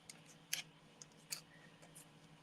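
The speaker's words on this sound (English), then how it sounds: "I use these scissors because they're super sharp." Sharp scissors snip a few times during quiet crafting work, giving brief crisp cuts spaced apart, close and fairly faint against a low background hum.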